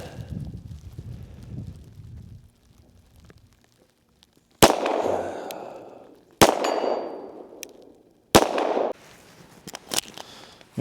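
A Springfield Prodigy DS Comp pistol fires four loud, sharp shots spaced a couple of seconds apart, each followed by a ringing, fading echo, after a quieter stretch of low rumble.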